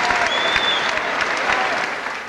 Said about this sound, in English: they're giving a good cheer to the loser as well